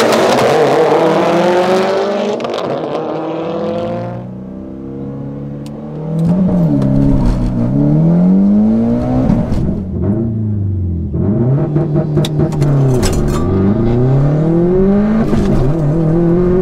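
A 500 hp fully built Subaru WRX STI on a full-boost map and a 400 hp bolt-on Mitsubishi Evo X race from a standstill, engines revving hard through repeated gear changes, loud and close for the whole run, with no talk.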